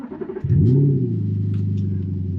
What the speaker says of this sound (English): One thing that you will notice quickly in this car is the exhaust is loud as shit. Because it has an aftermarket exhaust.